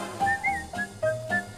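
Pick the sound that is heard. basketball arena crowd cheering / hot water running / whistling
whistling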